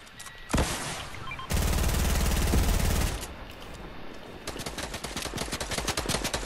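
Rapid automatic gunfire rattles through a video game match in loud sustained bursts, with a long heavy stretch of fire followed by quicker, lighter shots, close and dominant over the background.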